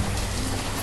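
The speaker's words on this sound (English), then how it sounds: "It's already raining, so that's no good." Steady rain falls in the medieval city-building game Banished, a continuous even hiss with low rumble underneath, heard alone without any talking.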